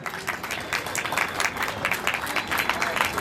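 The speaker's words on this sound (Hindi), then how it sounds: "जीव द्विवेदी से कहूँगा कि वो आ जाए मंच पे और अपने हाथों से इस बच्ची का हौसला बढ़ाएं तालियों के साथ।" An audience at a neighbourhood welfare association's Independence Day celebration in Trinagar, Delhi claps steadily, a dense patter of many hands at moderate distance, with a voice faintly audible beneath.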